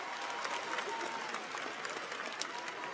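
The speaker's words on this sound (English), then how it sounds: "Please give them a round of applause." A graduation crowd at the Hunters Lane 2023 ceremony applauds teachers, a dense, continuous wash of many people clapping heard from a distance and held steadily throughout.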